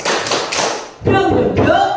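A teacher leads children in a rhythmic clapping chant (tepuk semangat) in a classroom, with a quick run of close, crisp claps followed by a chanting voice.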